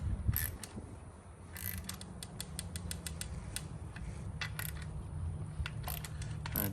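A hand ratchet clicks in quick, light bursts while tightening a part on a boat, a series of sharp metallic ticks over a quiet mechanical background, close and fairly soft, without speech.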